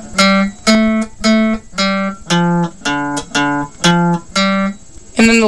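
A guitar riff in steady eighth notes, about a dozen plucked notes with rests between them, close and clear with no voice.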